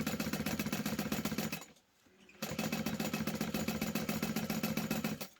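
A sewing machine stitching a portable console case runs in a fast, even, rattling rhythm. It stops for a moment, then starts again at the same steady pace, close and without talking.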